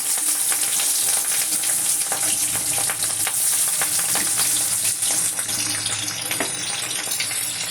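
Small catla fish pieces frying in hot oil, a loud dense crackling sizzle that stays constant and close throughout, with faint stirring clicks.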